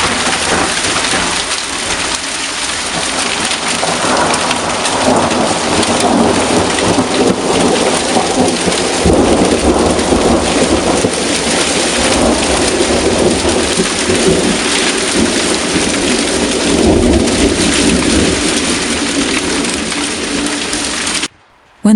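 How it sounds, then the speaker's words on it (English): Heavy rain pours steadily through a thunderstorm that also brought hail, with deep rolling thunder rumbling underneath throughout and ending abruptly. "Lightning and thunder began to flash."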